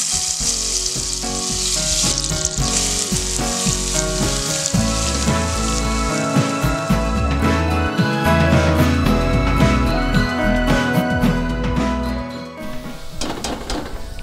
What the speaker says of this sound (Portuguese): e vamos dourar a nossa cebola